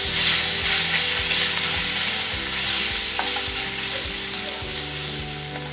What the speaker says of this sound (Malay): Bila kuali sudah panas berasap, masukkan setengah daripada daging dahulu.